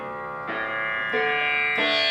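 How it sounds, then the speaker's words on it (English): Tanpura voice on a Casio CTS-195 electronic keyboard, three sustained droning notes struck in turn, each ringing into the next with rich buzzing overtones, close and even in level. "Next we have a tanpura."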